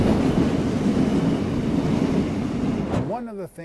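A short Korean freight train carrying oil and other liquid cargo rumbles past up close as a loud, steady roar with wind buffeting, then a voice begins speaking near the end.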